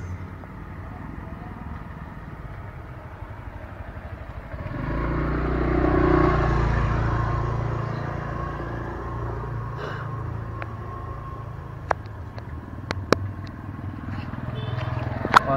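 A Yamaha Scorpio Z 225cc motorcycle engine idles steadily with a low rumble, swelling briefly as it revs, then settling; a few sharp clicks near the end.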